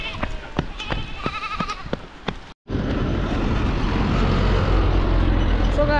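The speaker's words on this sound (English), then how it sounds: "I'm trying to get the goats." Goats bleating in a rural village in the rain, a series of short, nasal calls close by at first, followed after a brief cut by steady rain or engine noise.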